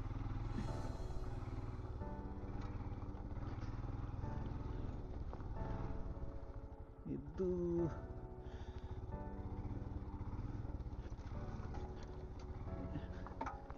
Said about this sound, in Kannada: This is Himalayan bike. ಇದಕ್ಕೆ ಹಿಮಾಲಯನ್ ಬೈಕ್ ಅಂತ ಹೇಳೋದು.